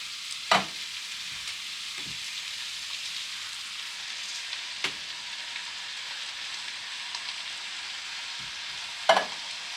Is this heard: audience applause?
no